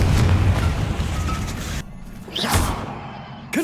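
A fire blast spell in Hogwarts Legacy goes off as a heavy whooshing burst with low rumbling booms that cut out suddenly. A brief second swish follows, and the effect is loud and close with no talking.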